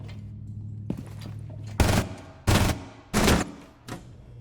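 Video game gunfire, four sharp loud shots spaced unevenly over a few seconds against a faint background hum, the last one quieter, with no talking.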